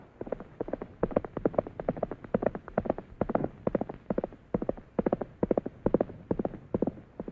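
Horse hooves clip-clop in a steady, even trot, close and fairly quiet, the beats repeating throughout with no talk over them.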